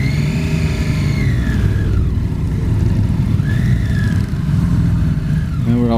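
Motorcycles on a group charity ride rumble along together, engines revving and easing as riders work the clutch, with a steady road drone and a couple of rising and falling engine notes heard up close.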